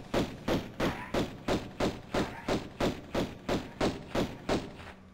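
A rapid string of about eleven evenly spaced pistol shots fired at a crocodile in Tomb Raider 1 Remastered, each a dull, thudding report, close and steady in rhythm over several seconds.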